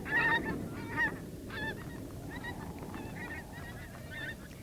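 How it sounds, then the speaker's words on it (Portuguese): A flock of geese honks repeatedly at a moderate distance over a steady outdoor rumble on Alaskan arctic tundra nesting grounds, calls overlapping in an irregular chorus. "Os gansos chegaram às áreas de nidificação da tundra"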